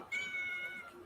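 A pet cat gives one drawn-out, slightly complaining meow close by, lasting about a second over low room noise.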